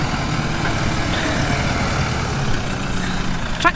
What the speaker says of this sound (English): So that was a lady driving the tractor, Lily.